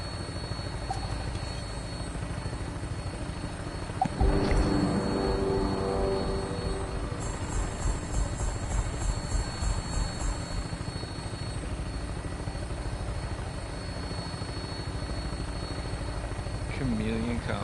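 In the game Fallout 76, an aircraft engine spins up into a loud, steady rotor-like drone with a rising whine partway through. It holds close and continuous to the end, and a voice talks over it.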